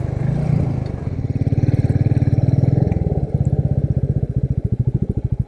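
Royal Enfield Meteor 350 motorcycle from 2022 running close by, its single-cylinder engine pulsing in a steady, rapid thump that swells as it revs, then settles back into a loud, even chug; no talking.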